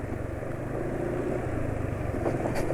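A steady engine running on freshly changed Mesran 20W50 oil idles close by, a low continuous drone with a faint rhythmic chug and a little mechanical ticking on top.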